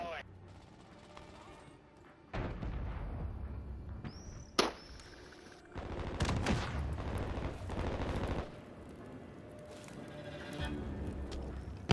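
Video game fireworks pop and crackle in sharp bursts, some loud single bangs and some rapid clusters, over a low ambient game background.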